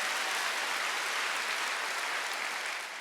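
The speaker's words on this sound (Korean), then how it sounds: "박수요." A congregation at a Sunday church service bursts into sustained applause, a dense, even roar of many hands clapping that holds steady and eases slightly at the very end.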